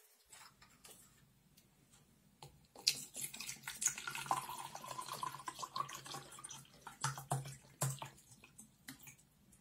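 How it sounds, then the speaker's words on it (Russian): Water is poured steadily into a measuring cup up to 250 millilitres for several seconds, a bright splashing stream with a few clinks near the end. "наливаем 250 миллилитров воды."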